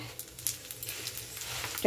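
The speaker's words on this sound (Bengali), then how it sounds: "ফোড়ন ভাজা একটু হয়ে আসুক" Whole spices such as cumin, cardamom, cinnamon and dried chilli crackle and sizzle steadily in hot oil for tempering, with a constant frying hiss and a few sharper pops.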